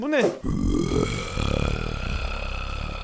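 Giant boss creature in a sword-fighting video game letting out a long, deep, rumbling burp-like growl that fills the scene, loud and sustained, with someone speaking briefly over it.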